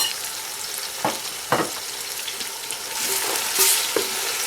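Onions and ginger garlic paste fry in a pan with a steady, close sizzle, broken by a few sharp stirring scrapes and clatters.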